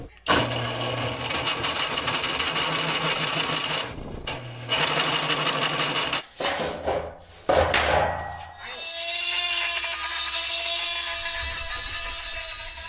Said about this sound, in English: we've resorted to dremeling that thing